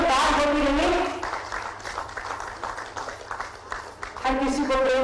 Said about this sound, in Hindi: तालियां अपने आप जोरदार होती रहे